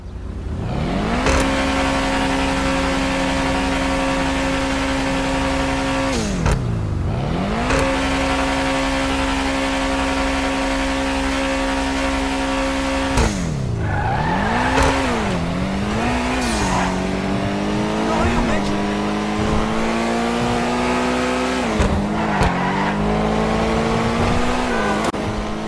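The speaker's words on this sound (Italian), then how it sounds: "Adesso vi farò sentire il rumore del motore di questo veicolo." A loud video game SUV engine, the Pegassi Toros, drones steadily, revving up and down several times with rising and falling pitch and no talk over it.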